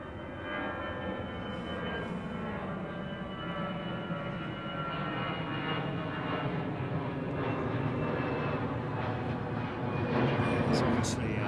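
An airliner at Heathrow aborting its landing and going around, a broad steady jet roar that builds slightly toward the end, with a voice talking over it.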